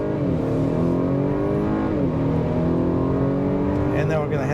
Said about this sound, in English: You're gonna see how fast it is off the line.